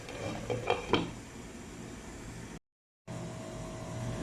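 A few sharp metallic clinks as a lid is set over a cooking pot of beef pares, followed by a steady low kitchen hum with a brief dropout.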